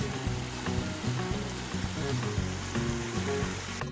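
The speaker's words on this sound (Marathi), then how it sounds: "पाण्याचा खूप आवाज येतोय" A river in the Konkan, swollen by the first monsoon rain, rushes loudly and steadily at close range, a dense continuous roar of flowing water with no voices.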